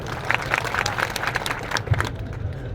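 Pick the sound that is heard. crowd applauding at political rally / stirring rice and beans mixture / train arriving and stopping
crowd applauding at political rally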